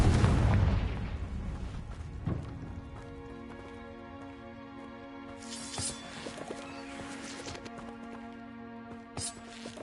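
Spell explosion of Confringo in Hogwarts Legacy: a loud burst at the start, then smaller blasts around two and six seconds over a sustained musical game soundscape.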